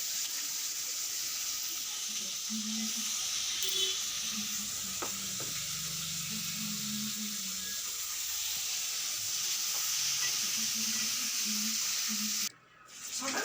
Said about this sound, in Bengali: আর সব ভাজাভুজিগুলো করে নিচ্ছি দেখো কুঁদরি ভাজা